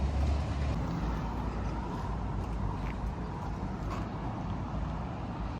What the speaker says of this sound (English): So all you're hearing is tyre noise in the road rather than the engines going.